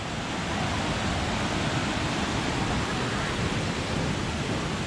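Rushing river water flowing through a mountain valley on Mount Emei, a steady broadband roar of churning current, continuous and fairly close with no talk.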